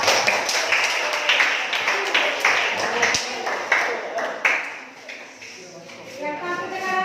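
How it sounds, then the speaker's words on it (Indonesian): Classroom group clapping hands, a quick irregular burst of claps that thins out, with talking and a ringing tone near the end. "Berikan tepuk tangan."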